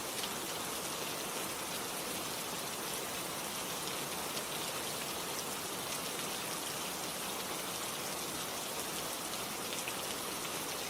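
Steady, heavy rain falls without a break, a dense, even hiss of drops that stays at one level throughout, with no voices or other sounds.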